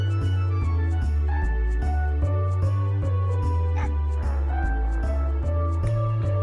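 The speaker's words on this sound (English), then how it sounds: "I hear a dog." A dog in the video game Mega Man Legends barks and yips in a steady repeating rhythm, loud and close, layered over looping game music.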